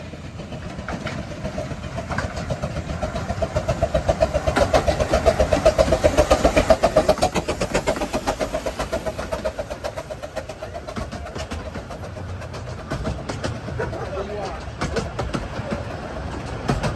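Green Goddess, a Romney, Hythe and Dymchurch Railway miniature locomotive, runs non-stop through a station at an anniversary gala, a steady rumble and rapid wheel clatter swelling as it passes, then fading under a continuing rattle of carriages.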